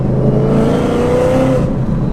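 A Dodge Demon with a 6-speed manual runs loud and close, its engine note rising in pitch as it revs over about two seconds, then settling back.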